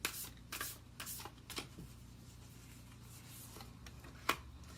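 Moonology oracle cards are shuffled close up in quick, papery riffling bursts, then a quieter stretch of soft rubbing ends with one sharp card snap.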